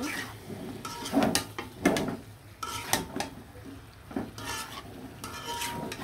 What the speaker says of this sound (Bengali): ভালো করে নাড়াচাড়া দিয়ে মশলার সাথে কিন্তু মিশিয়ে নেব।